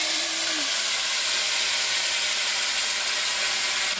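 Spice paste of ginger, chili and cumin sizzling in a hot pan, a steady loud hiss of frying that holds without a break from start to finish.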